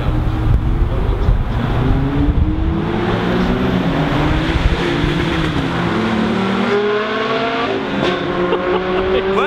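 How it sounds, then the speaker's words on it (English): Loud sports cars moving through Beverly Hills street traffic, engines droning and revving up and down nearby in a continuous roar, with someone speaking over the noise. "Never mind all these loud cars that surround us."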